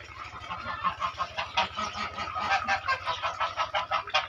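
Geese and ducks on a farm honking continuously in a dense, overlapping chorus over a steady low hum, close and moderately loud with no talking.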